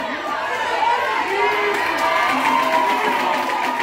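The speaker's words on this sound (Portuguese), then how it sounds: "torcida vai ao delírio" Football supporters at a youth under-11 match erupt in wild cheering, a loud, continuous roar of shouting and whooping voices, including high children's cries, sustained across the moment.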